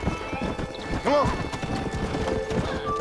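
A horse gallops in Red Dead Redemption, quick hoofbeats running beneath a man's spoken urging, with a brief whinny partway through.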